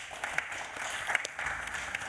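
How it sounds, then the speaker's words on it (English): An audience in a conference hall gives light, faint applause for a speaker at a scientific session, the quiet scattered clapping rising and falling over a couple of seconds. "A round of applause for Destiawan, please."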